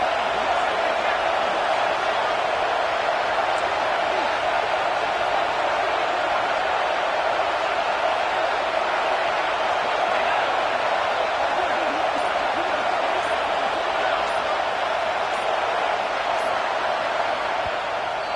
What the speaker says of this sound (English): This crowd busting the decibel meter and trying to will a fourth down stop.